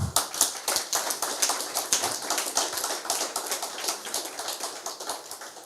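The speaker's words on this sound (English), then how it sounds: "Do you need another opportunity to give another round of applause?" A debate audience gives a round of applause, dense rapid clapping close by that holds steady for several seconds and thins slightly toward the end.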